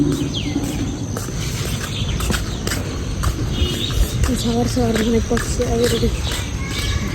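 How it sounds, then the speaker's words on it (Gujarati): Birds chirp and twitter in short bright calls in the morning at a temple, over a steady bed of insect buzz and low background murmur. "સવાર સવારમાં પક્ષી બી બહુ મસ્ત અવાજ કરતા છે,"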